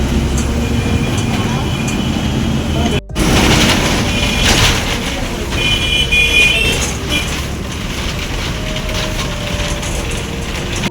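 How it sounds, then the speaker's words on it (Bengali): A moving bus rumbles steadily with a loud, dense road and engine roar throughout. There is a brief dropout near the start and faint squeaks and rattles now and then. "যাচ্ছি বাসে করে"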